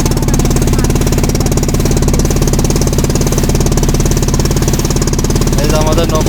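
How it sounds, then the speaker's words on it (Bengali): A motorboat engine runs loud and close with a rapid, even, chugging rattle that holds steady throughout, while a voice speaks briefly under the din near the end. "এই যে আমাদের নৌকা চলছে।"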